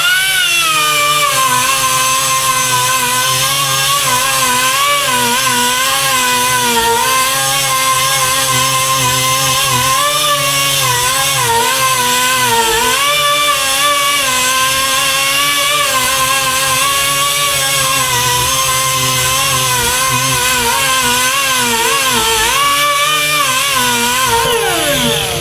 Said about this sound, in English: I just let the weight of the buffer kind of do the work itself.